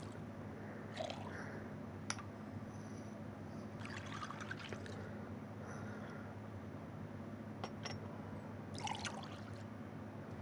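Lemon mint wine is poured in Genshin Impact over a steady low hum. Brief trickling bursts come and go, with faint drips in between, quiet and close, and no voices.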